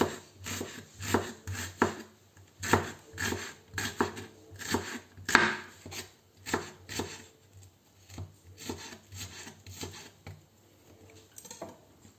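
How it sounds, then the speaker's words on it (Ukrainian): A knife chops an onion on a cutting board for a salad, quick irregular bursts of close, crisp knocks, clustered and then spreading out with short pauses in between. "І останнє, що ми нарізаємо в цьому салаті, це цибуля."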